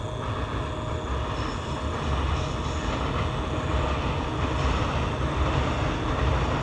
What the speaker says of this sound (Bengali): ট্রেন পাস হচ্ছে।